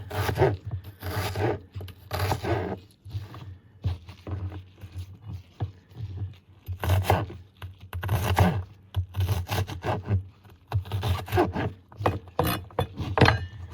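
Dry papery skin being peeled off an onion by gloved hands for salsa, heard as close, intermittent scraping and rustling bursts with short pauses between.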